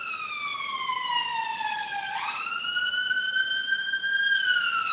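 An ambulance siren wails loud and close with no one talking, its pitch sliding down, then jumping up and holding steady as the vehicle passes.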